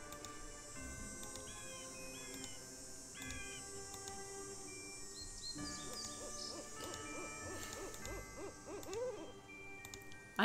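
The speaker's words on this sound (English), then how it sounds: "I can hear an owl." An owl hoots in the Nancy Drew: Ghost Dogs of Moon Lake video game, with repeated tonal hoots and chirpy bird calls layered over a soft night ambience, moderately loud with no talking.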